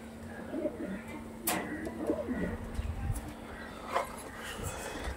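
Pigeons coo softly in a loft, low murmuring calls repeating under a humming background, with a few sharp clicks and knocks scattered through.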